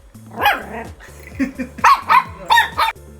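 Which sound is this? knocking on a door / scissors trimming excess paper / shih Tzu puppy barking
shih Tzu puppy barking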